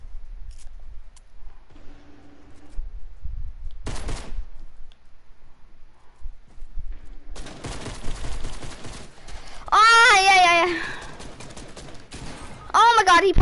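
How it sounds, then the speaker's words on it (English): Shotgun blasts in a Fortnite match, a few loud sharp bangs scattered through the scene between quieter gaps, with players talking over the game. "They have a shotgun."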